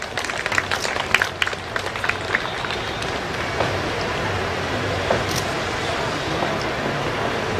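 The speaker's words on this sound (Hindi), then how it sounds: "जोरदार तालियों की गड़गड़ाहट के साथ" An audience at a health panel discussion applauds to welcome the moderator, crisp scattered claps at first blending into a sustained, even wash of clapping that continues to the end.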